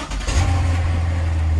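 A Corvette engine rumbles steadily up close with a deep, loud low drone, its revving settling into a sustained growl that holds without break.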